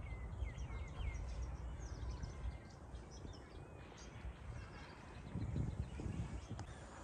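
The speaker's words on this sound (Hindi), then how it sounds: "परिंदों की चहचहाती आवाज़ें," Birds chirp faintly in a quiet early-morning outdoor scene, scattered short calls rising over a low rumbling background hum, distant and soft with no talking.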